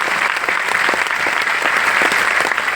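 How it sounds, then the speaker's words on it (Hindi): Enthusiastic applause from an audience at a product presentation, dense and loud clapping filling the whole stretch without pause. "जबरदस्त ताली होना चाहिए"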